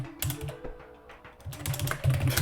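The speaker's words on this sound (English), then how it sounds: "I have trouble typing during this." Quick bursts of clicky keystrokes on a computer keyboard, close and fairly loud, typed in short irregular runs with brief pauses between them.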